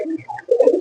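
Pigeons coo softly from nest boxes in a loft, a few low warbling calls close by, growing fuller in the second half.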